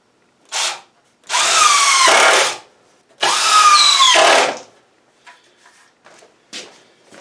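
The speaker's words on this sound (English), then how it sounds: "I'm going to stand it back up on its edge and finish screwing the underside of it" A power drill drives screws into the underside of a plow-damaged bench seat, with two long loud bursts of whirring and a short earlier burst, followed by faint clicks and handling sounds.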